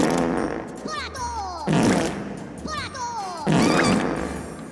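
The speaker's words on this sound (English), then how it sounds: "The Minion did the fart noise." A cartoon fart sound effect from a Minion in Despicable Me, a series of loud, buzzy, sputtering blasts with squeaky pitch sweeps, several in a row, mixed with crashes and comic vocal sounds.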